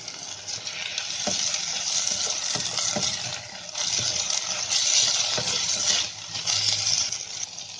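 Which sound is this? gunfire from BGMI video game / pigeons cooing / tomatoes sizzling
tomatoes sizzling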